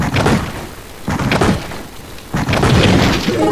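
A giant cannon in the video game Trove fires repeatedly, three loud booming blasts in a row, each with a broad rumbling tail, with no voices over them.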